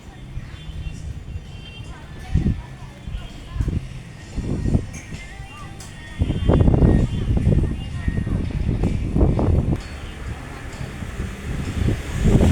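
Strong storm wind gusts through a town market area in Lampang, Thailand, as a steady rushing roar; someone talks over it and the wind surges louder midway.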